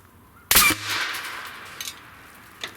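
A homemade potato gun built from a tire blaster fires outdoors: one sharp, loud pop that decays into a hissing whoosh, followed by a faint distant thud and a small knock.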